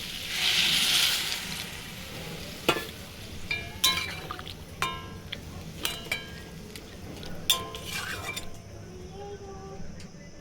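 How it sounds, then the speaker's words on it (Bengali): Water is poured into a pan of potatoes, yardlong beans and spices for posto. A brief hissing splash comes at the start, followed by scattered utensil clinks and taps while someone talks. "এবার আমি দিয়ে দেবো পরিমাণ মতো জল।"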